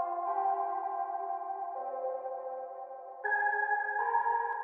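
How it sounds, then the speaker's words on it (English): Nexus Fantasy and Dream Chill Zone 1 synth preset playing a slow melody in an FL Studio song remake: smooth, sustained notes shifting pitch every second or so, clean and steady, with no voices. "We're using one from Nexus called the Fantasy and Dream Chill Zone 1."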